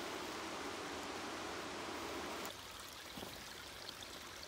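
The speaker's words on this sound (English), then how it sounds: "We found this small stream." A small stream near the Clatskanie River flows steadily with a constant broadband rush of water, close by, its noise level dropping slightly partway through.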